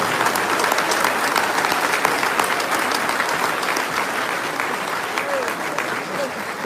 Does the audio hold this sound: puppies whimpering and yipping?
no